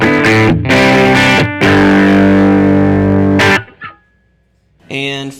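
Overdriven electric guitar on the bridge pickup, run through an EHX SoulFood overdrive pedal: loud strummed chords ringing out in bursts with a brief gap, then a final chord.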